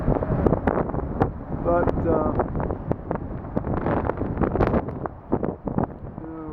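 Strong, gusty wind buffets the microphone outdoors with rough low rumbles that swell and fade, while someone speaks through it.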